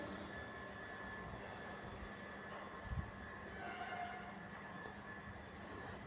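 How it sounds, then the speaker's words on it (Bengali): A train rumbles faint and distant at Agartala railway station, a low steady drone with a brief knock partway through. "এই যে আগরতলা রেল স্টেশন, ভারী সুন্দর দেখতে আগরতলা রেল স্টেশনটা।"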